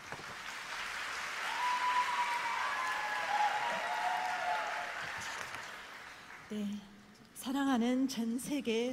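Sustained applause from a crowd fills the room for several seconds, then fades as a voice begins speaking.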